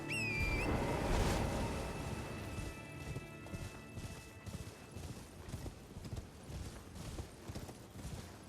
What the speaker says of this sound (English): Man, I love riding my horse.